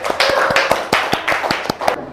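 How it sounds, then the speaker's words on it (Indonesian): A primary school class claps for a presenting group, steady dense handclapping from a roomful of pupils with sharper individual claps cutting through, sustained for a couple of seconds before trailing off. "tepuk tangan untuk kelompok"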